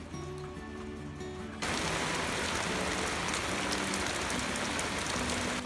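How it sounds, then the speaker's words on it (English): Steady rain pattering on a surface, a dense hiss with scattered drops, growing louder partway through as faint background tones fade. "I love this rain"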